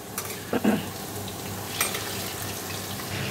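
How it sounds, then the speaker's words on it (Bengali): Chicken pieces fry in a pan with a steady crackling sizzle, loudest in a short burst near the start, then a soft continuous hiss. "এই চিকেনটা আজকে একটু ভেজে নেব"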